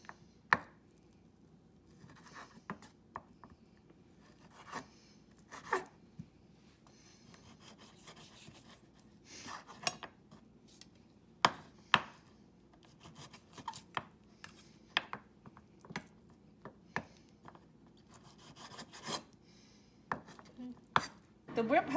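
Curry spare ribs chopped into small pieces through the bone on a board, a long run of sharp, irregular knocks and thuds with quiet scraping between strikes.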